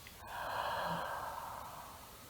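A long, soft breath drawn in deeply during a guided meditation, a steady airy rush that swells and then slowly fades, heard alone and fairly quiet, with no talk over it.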